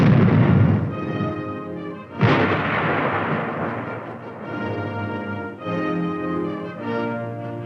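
A heavy, booming blast as a military armored vehicle fires its weapon in direct fire, followed by a long rolling rumble and mechanical hum, with a second jolt about two seconds in.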